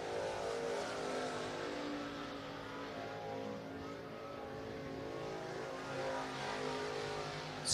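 Race car in the 602 Red Clay Series rolling out onto the dirt track at I-75 Raceway in Niota, Tennessee, its engine a steady, fairly distant drone that swells slightly at the end.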